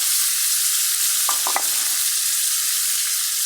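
Gulsha fish drop into a pan of frying tomato masala, a loud dense steady sizzle with a few brief knocks as the pieces go in, close and alone with no talking.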